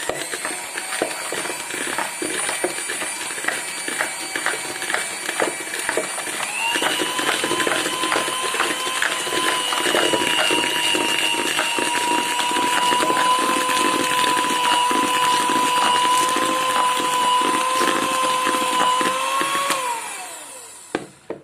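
Electric mixer beating butter and powdered sugar for a banana loaf cake, a loud, continuous motor whine with a pitch that steps up partway through, running steadily for about twenty seconds before winding down and stopping.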